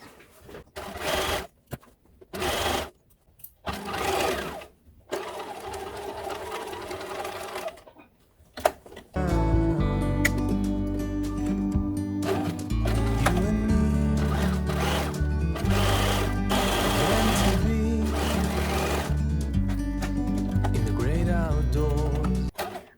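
A sewing machine stitches the pockets of a dress sewn from a Japanese pattern book, set to a short stitch length. Its steady motor whir runs loud and close for about fourteen seconds after several short, stop-start bursts of stitching.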